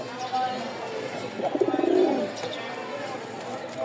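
A pigeon gives a short burst of throaty, pulsing coos in the middle, with faint background noise before and after.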